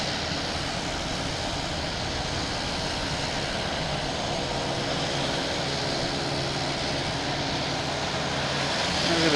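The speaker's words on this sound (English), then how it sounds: "Making all the racket, making all these planes sound like they're all prop planes." Jet airliners at Boston Logan Airport roar steadily in a broad, continuous rumble, growing slightly louder toward the end, with no one speaking.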